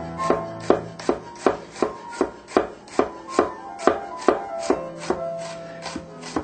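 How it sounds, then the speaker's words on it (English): Kitchen knife slicing onions and vegetables on a cutting board, a steady run of about fifteen crisp, evenly spaced cuts with sharp knocks against the board, close and alone without any talking. "And you're not really chopping, you're just slicing."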